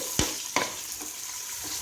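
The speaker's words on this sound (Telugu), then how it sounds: "ఇలా వేగుతుండగానే కొద్దిగా ఇందులో చింతపండు వేసి అటు ఇటు కలుపుకొని" Tomato pieces frying in oil with tamarind, stirred in a pan: two sharp scrapes of the spoon near the start, then a soft, steady sizzle, close up and with no voices.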